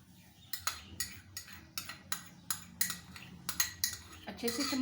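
A metal spoon scoops yogurt from a container into a large bowl with meat for chicken biryani, striking the dish in about a dozen quick, evenly spaced clinks close by.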